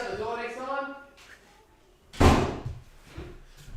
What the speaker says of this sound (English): Please shut the door next time.